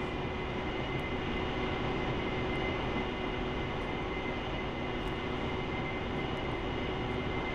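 Steady broadband roar of an AV-8B Harrier jet engine rolling on a conventional runway just after landing in the DCS flight simulator, loud and continuous with no talk over it.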